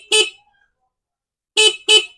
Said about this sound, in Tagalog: Tapos ito yung stock horn.